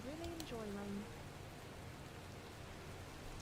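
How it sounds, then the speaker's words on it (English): Steady rain in Minecraft, a soft continuous hiss of falling drops at low level throughout, with a voice talking briefly over it at the start. "I actually really enjoy rain."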